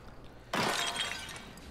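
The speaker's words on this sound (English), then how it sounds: "Shattering ceramics." Ceramics shatter in the video game Star Wars Jedi Fallen Order: a sudden breaking crash with a glassy, scattering tail, after a quiet moment.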